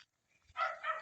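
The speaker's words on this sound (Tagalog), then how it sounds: "May aso pang tumatahon." A dog at a rural hut gives a short, brief bark or yelp at moderate distance after a moment of near silence, with a slightly whiny tone.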